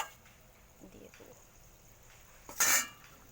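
Fried pointed gourd and eggs are slid into a boiling curry pan: soft clinks at first, then one brief, bright clattering splash near the end, with quiet voices in the background.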